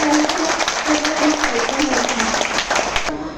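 Audience giving loud welcoming applause for arriving guests at a center event, sustained dense clapping with a voice audible over it.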